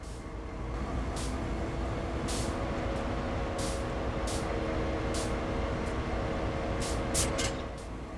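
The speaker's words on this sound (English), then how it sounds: "that's the power of a Dash 8 locomotive" A lone Dash 8 locomotive in a train simulator rumbles steadily with a heavy low drone, while sharp brief hissing bursts from air brakes break in at intervals.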